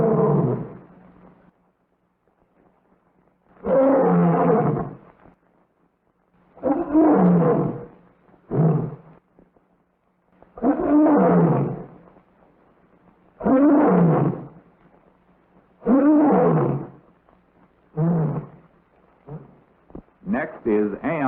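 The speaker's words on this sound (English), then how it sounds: "They want to hear the lions roar." An African lion at the Bronx Zoo roars in a long series of loud, deep bursts that pause and then repeat, with the roars growing into shorter grunts near the end.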